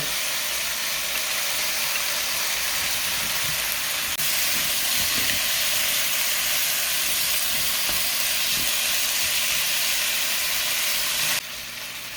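Onions and chili peppers sizzle loudly in a pan with pork belly, a steady close frying hiss with faint stirring clicks throughout.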